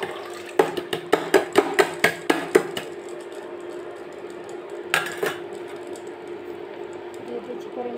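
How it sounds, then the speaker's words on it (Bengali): Dry dal lentils tipped into a cooking pot, making a quick run of sharp clattering ticks that builds then stops, followed by a short rattle a few seconds later over low kitchen background noise. "আমি ডালটা দিয়ে দিচ্ছি।"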